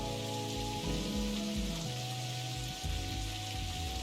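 Steady rain falls outside in the Necrobarista video game, a constant soft hiss underneath low sustained musical tones, with no talking.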